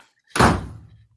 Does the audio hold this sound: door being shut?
yes